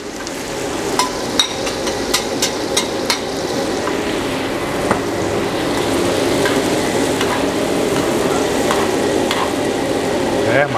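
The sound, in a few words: shallots frying in hot oil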